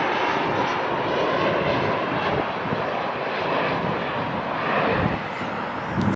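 Jet airliner departing a runway at LAX, a loud, steady engine roar that holds through the whole stretch with slight swells, no voices.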